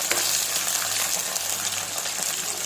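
Chillies fry in hot oil in a pan for puli milagai, giving a loud, continuous, close-up sizzle and crackle with no talking.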